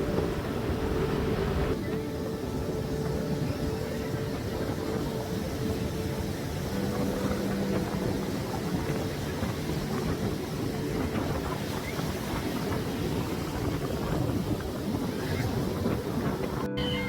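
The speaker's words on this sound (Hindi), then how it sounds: "इस बीच पर बहुत तेज़ हवा चल रही थी।" Continuous loud roaring rush of wind buffeting the microphone on a beach at Somnath, Gujarat, blended with crashing surf, steady throughout with no pauses.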